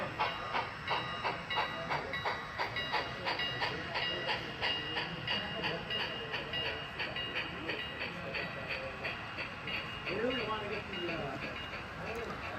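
A freight train rolls steadily along the rails with a regular clickety-clack rhythm and a constant hiss, voices faintly audible underneath.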